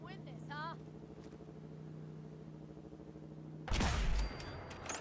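A gunshot in Fallout 4 Survival, heard as one loud, close blast with a brief rumbling tail after several seconds of steady low droning background noise and a few faint warbling tones.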